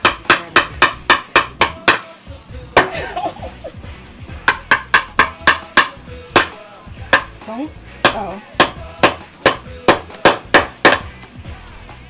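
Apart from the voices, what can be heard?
hammering a nail with a hammer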